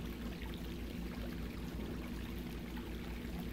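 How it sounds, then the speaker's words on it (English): A nearby creek flows in a soft, continuous rush and trickle, faint and steady, heard alone with no voices. "I can hear the slushing of the nearby creek"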